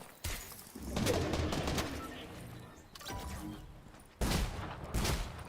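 Heavy explosions from thrown grenades in the Fortnite video game go off in several loud broadband bursts, with a big blast near the start, another around the middle and a sharp one near the end, over a busy rumbling game soundscape.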